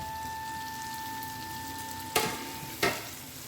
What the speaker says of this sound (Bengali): এবার আমি ম্যারিনেট করে রাখা চিংড়ি মাছটা এর মধ্যে দিয়ে দেবো।